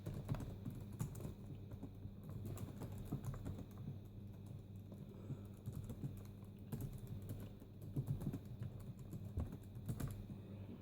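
Keys tapped one after another on a Compaq Armada 110 laptop keyboard whose X, C and V keys are faulty: a steady run of light, close plastic clicks over a low background hum, with no talk.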